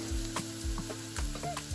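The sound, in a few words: onions, ginger and garlic frying in a pot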